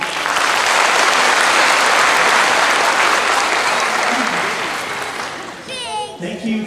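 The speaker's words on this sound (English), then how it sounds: "Let's applaud." Audience applause at a university graduation ceremony, a loud sustained wash of clapping from a large crowd that slowly fades toward the end, with a brief voice emerging as it dies down.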